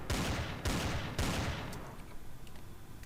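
Gunfire in the Empyrion video game aimed at an enemy spawner: three loud, rapid bursts of shots close together that then fade into a rumbling tail, with no one speaking.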